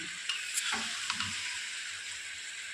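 Potato pieces frying in a pan sizzle steadily and evenly after water is added, with occasional light clinks and stirring scrapes over the constant hiss.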